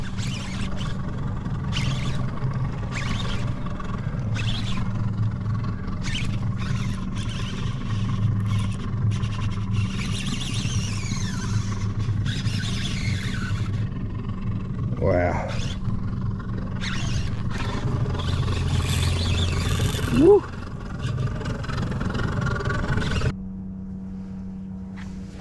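A fishing boat's outboard motor drones steadily at close range, a low continuous hum with faint splashes and knocks over it, ending abruptly near the close.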